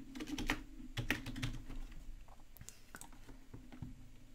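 Fast typing on a computer keyboard while entering a variable name in UiPath StudioX: crisp, close key clicks land in quick bursts with short pauses between them, over quiet room tone and without speech.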